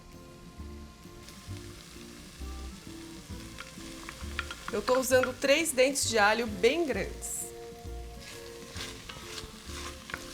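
Garlic and mushrooms sauté in a very hot iron pan for chicken and mushroom picadinho. A sharp burst of frying sizzle swells midway and then settles to a softer crackle, with someone talking over it.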